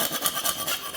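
A metal file rasps across a crusty ridge on a car part during a turbo intercooler install, four or five quick rhythmic strokes, close and fairly quiet, with no voices.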